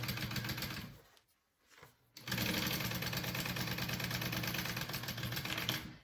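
A home sewing machine runs steadily while stitching a fabric bag. The motor whirs loud and close, breaks off for about a second, then starts again at full speed.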